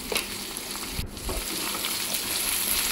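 Spine gourd pieces fry in a pan with turmeric and salt, giving a steady close sizzle with a soft clatter of stirring near the start and no talking.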